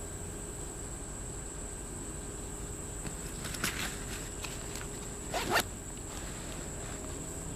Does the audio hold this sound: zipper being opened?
yes